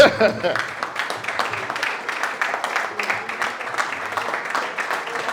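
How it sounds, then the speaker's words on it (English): An audience claps in sustained, dense applause, a steady patter of many hands at moderate distance. "Can we give a round of applause to Dr. Garrick, please?"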